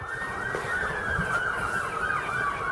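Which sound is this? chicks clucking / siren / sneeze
siren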